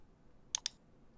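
Two quick, sharp computer mouse clicks close together, crisp and near, against a quiet background with no talking.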